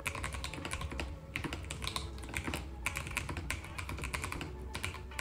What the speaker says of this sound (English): I also really love the sound of this keyboard and just listen to it.